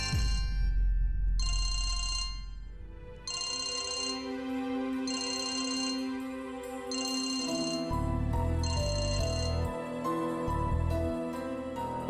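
A telephone rings in a domestic scene from a Hindi web series, sounding as a repeating ringtone in evenly spaced bursts over steady background music, loud and close, with no talk.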